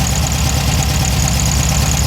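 A car engine idles steadily throughout, a loud, low, even rumble with a faint rhythmic pulse and no talking.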